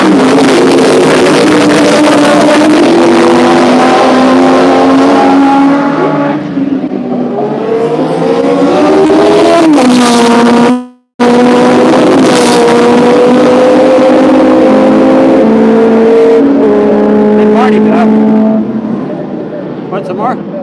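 Race cars roar past the pit wall at Mondello race track, engines rising and falling in pitch through repeated loud passes, with one cut near the middle.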